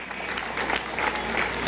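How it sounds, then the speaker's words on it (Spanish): Crowd applauding at a Venezuelan state ceremony honoring Chávez, a dense steady wash of clapping for Haiti held at an even level throughout. "Un aplauso a Haití."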